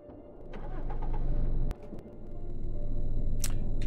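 Vehicle engine starting in Cataclysm DDA: a loud, steady engine rumble cuts out briefly near the middle, then builds back up and runs on, with a short bright click near the end.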